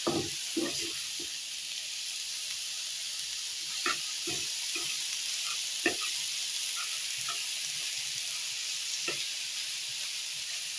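Mixed leafy greens (shak) frying in a pan, a continuous close hissing sizzle with intermittent stirring clicks and scrapes scattered throughout.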